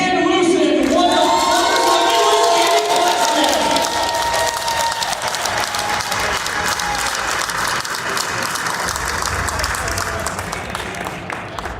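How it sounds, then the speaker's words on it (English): A large crowd at a gaming convention finale breaks into sustained, loud applause with cheering and whoops, filling the room steadily after a voice. "Give the loudest applause all night to this man, Dan Lucen"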